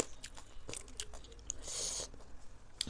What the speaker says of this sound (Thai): หูหมูทอดกรอบด้วยจ้ะเนี่ย